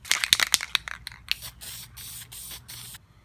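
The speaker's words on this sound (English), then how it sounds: "So we're just going to spray this down real quick and get a nice, decent finish on it." Short bursts of an aerosol enamel spray can painting a car dash pad on a fourth-generation Camaro/Firebird, several quick hisses first, then a series of longer sprays, close up and fairly loud.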